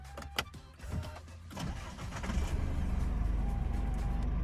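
2021 Isuzu D-Max engine starting: a few clicks and a whirring crank, then the engine catches and settles into a low, steady idle, heard from inside the cab.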